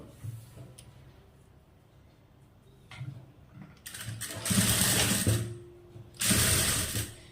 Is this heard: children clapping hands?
no